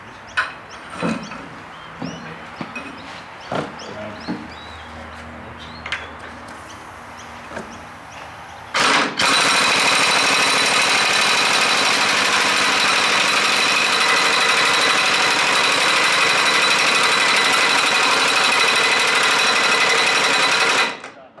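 Cummins V8 diesel in a Ford LNT9000 truck: after scattered clanks and knocks, a loud, rough, continuous cranking-and-running roar kicks in abruptly and holds for about twelve seconds before cutting off.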